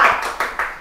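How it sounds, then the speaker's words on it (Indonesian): A studio audience at an Indonesian comedy show claps, a brief dense patter of hands that fades within a second, with no talking over it. "Terima kasih tepuk tangannya"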